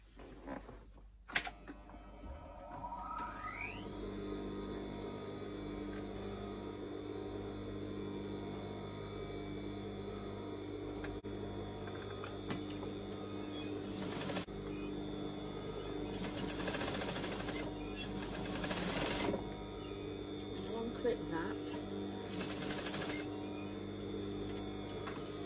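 A flatbed sewing machine back tacking over strapping on a ten-layered net petticoat, running in a continuous mechanical whir with a rising motor whine at the start and a few louder surges, close and steady throughout.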